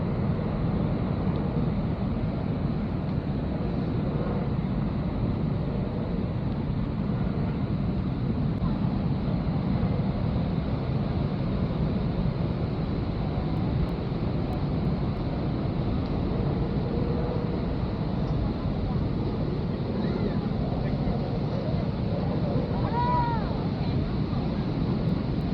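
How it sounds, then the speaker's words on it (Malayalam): Victoria Falls in Zambia roars in a dense, unbroken rumble with wind buffeting the microphone, a loud wall of falling water near the bridge lasting the whole time. "വിക്ടോറിയ വെള്ളച്ചാട്ടത്തിൻ്റെ ഭീകരത എത്രമാത്രമാണെന്ന് നിങ്ങൾക്ക് ഈ വീഡിയോ കാണുമ്പോൾ മനസ്സിലാവും"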